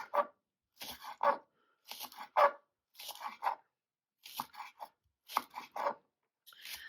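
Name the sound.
knife chopping scallion into small pieces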